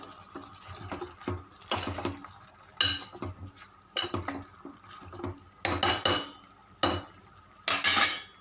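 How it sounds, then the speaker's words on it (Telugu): A utensil stirs chopped gongura sorrel leaves in a cooking pot, giving repeated scraping and clinking strokes in irregular bursts, close and fairly loud, with quiet pauses between them and no talking. "మొత్తం దగ్గరకు వచ్చేదాకా కలుపుకోవాలి"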